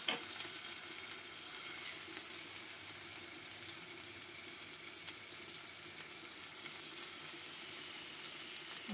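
Hilsa fish slid into hot oil for doi ilish, a soft, steady frying hiss that holds evenly throughout, faint and continuous with no voices.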